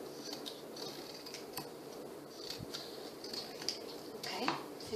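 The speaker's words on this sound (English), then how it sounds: "let's go ahead and take our scissors and just create some border strips here" Scissors snipping paper into thin border strips for a junk journal, a run of soft, quick crisp cuts and clicks, close but faint over a low room hiss.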